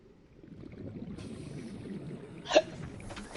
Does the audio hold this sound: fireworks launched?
no